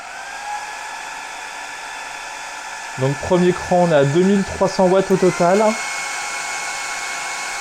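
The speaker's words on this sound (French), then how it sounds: "et si on active le sèche-cheveux" A hair dryer blows steadily off a Bluetti Elite 200 portable power station, a continuous whirring hum that runs the whole time, with someone talking over it in the middle stretch.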